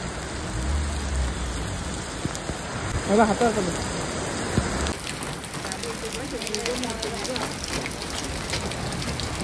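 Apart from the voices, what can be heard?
hailstones falling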